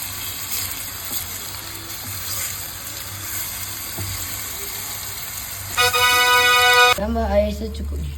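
Water poured into a pot of sautéed chicken for soup: a steady sizzle gives way to a rising, ringing stream of water and then a gurgling, bubbling splash, close and fairly loud.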